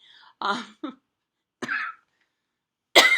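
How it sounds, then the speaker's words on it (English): Several sharp, close coughs in short bursts from a person recovering from anesthesia, separated by brief silences, with a final harsher cough at the end. "Still getting over a cough from the anesthesia"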